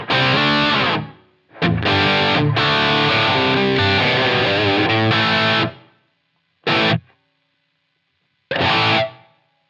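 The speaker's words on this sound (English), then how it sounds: "If I bring that reverb in," Electric guitar played through a Line 6 HX Stomp multi-effects unit with reverb brought in, loud distorted chords ringing out, then two short separate strummed bursts after gaps of silence.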